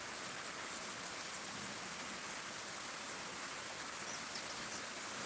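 Heavy rain pours steadily on a farm in the eastern Miraj area, a dense, even hiss of drops on surfaces that stays loud and unbroken throughout with no voices.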